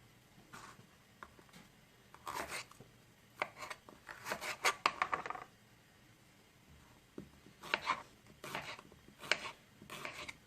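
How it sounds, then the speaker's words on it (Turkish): Quick clusters of soft knife chops on vegetables against a board, coming in short bursts with pauses between, close but quiet, no voices. "Diğerlerini bu şekilde doğrayarak kabımın içerisine koyuyorum."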